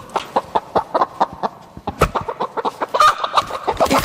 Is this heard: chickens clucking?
yes